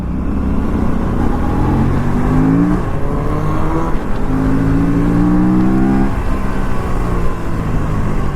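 A KTM RC 390 motorcycle revs its exhaust on a weekend breakfast ride. The engine roar is loud, close and continuous, and its pitch climbs twice in long sweeps.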